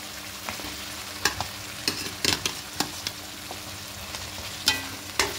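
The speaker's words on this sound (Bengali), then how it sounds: "আলুটা দিয়ে খুব ভালো করে মশলার সঙ্গে মিক্স করে" Fried potatoes being stirred into spices in a pan for an aloo-potol curry: a low sizzle under sharp, irregular scrapes and clinks of the spoon against the pan, up close with no talking.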